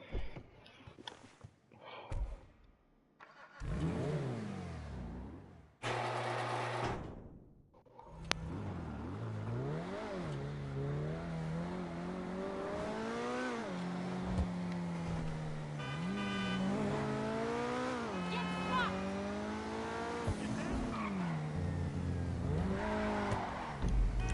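A car engine revs and drives along in GTA Online, with several short bursts at the start, then a steady, rising and falling engine drone that runs on alone and fairly close.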